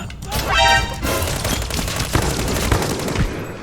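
Gunfire and blasts from the video game Arena Breakout, including a bottle bomb explosion on a second floor, form a loud, dense burst of rapid shots and crashes that continues steadily throughout.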